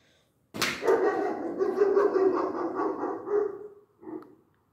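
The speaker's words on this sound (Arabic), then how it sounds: "جيراننا عندهم كلب حراسة لا وضل هيك صوته طالع" The neighbours' guard dog lets out a loud, drawn-out bark or howl nearby, sustained for several seconds, then gives a shorter final yelp, with no speech over it.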